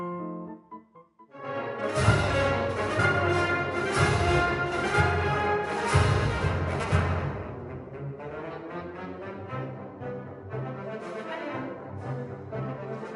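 Music in 2/4 march time, played loud and full with bright brassy chords and a steady two-beat pulse for about thirteen seconds, then thinning toward the end, with no voice.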